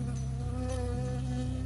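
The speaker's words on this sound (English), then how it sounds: "I got stung by a bee." A bee from the video game Firewatch buzzes loudly and close, a steady droning hum with a slight wavering pitch, heard alone with no voices.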